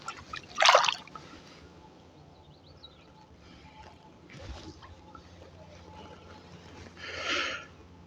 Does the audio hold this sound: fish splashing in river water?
yes